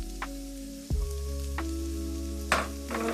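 Ground beef with seasoning fries in a pan beneath a steady low hum. A few scrapes and knocks of the spoon mixing it ring out close, with a louder stroke near the end.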